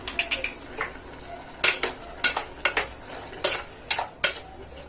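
Bottle gourd curry being stirred after salt goes in, a spoon or ladle knocking and scraping against the pot in a run of sharp, distinct clinks and taps, close and fairly loud, with no talking.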